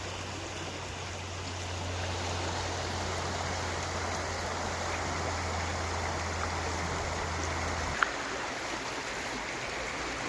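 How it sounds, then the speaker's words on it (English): Water from a storm sewer pipe pours steadily into a brook, a constant close rushing splash with a low hum fading near the end and one faint click. "This pipe here is a storm sewer emptying into Cross Canal Brook"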